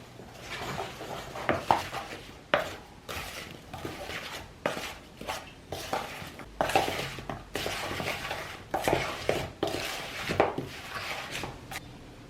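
Ingredients for strawberry jam and apple pie oatmeal bars, including salt, are stirred together: repeated close clinks and scrapes of a utensil against the container in a fairly steady rhythm, with no talk.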